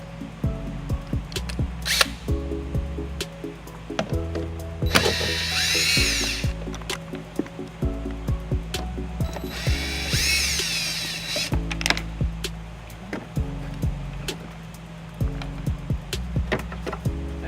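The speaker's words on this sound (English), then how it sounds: "we have two Phillips screw fasteners here that we need to take off to get the light to come out." Phillips screws being backed out of a 2008 Ford Escape tail light with a power driver, two sustained whirring bursts amid close clicks, knocks and handling of plastic parts.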